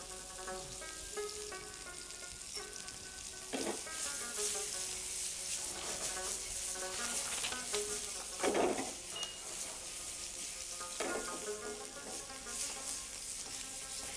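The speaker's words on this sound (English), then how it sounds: "while our vegetables are being sauteed and our fish is being cooked" Vegetables sauté while fish cooks in a pan, a steady close sizzle with periodic louder bursts of frying and occasional stirring scrapes, alongside light background tones.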